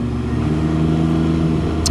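A trike motorcycle rumbles past close by, a loud steady mid-pitched engine drone with no talk.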